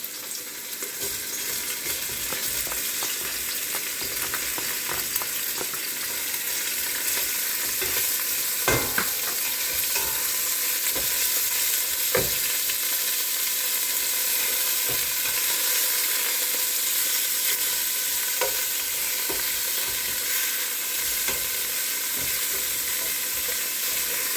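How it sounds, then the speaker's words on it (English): Meat fries in olive oil in a pan, giving a loud, unbroken sizzle that holds steady throughout, dotted with small pops and utensil taps. "I'm going to add my meat in here and I'm going to fry my meat a little bit"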